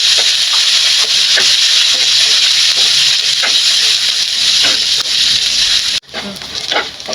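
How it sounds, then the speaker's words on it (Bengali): Cashews, pistachios and peanuts fry in hot ghee for a vermicelli dessert, giving a loud, continuous sizzle that drops off abruptly near the end. "ঘিটা গরম হয়েছে, এখানে আমি কাজু বাদাম, পেস্তা বাদাম, চিনা বাদাম, বাদামটা আগে ভেজে নিব।"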